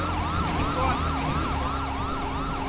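Police car siren wailing continuously in GTA 5 during a chase, a steady rising and falling tone close and loud over vehicle engine rumble.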